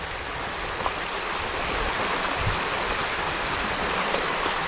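Steady rushing river water flows continuously on Dartmoor, a broad even wash of sound with small splashes, no voices.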